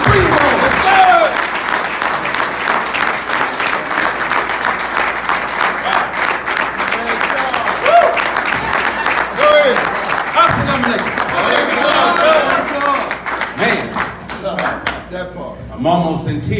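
A big warm round of applause from an audience welcoming Brother Ansar Muhammad, student minister from the Antelope Valley, as he is brought on; steady dense clapping fills the whole stretch with voices and cheers mixed in.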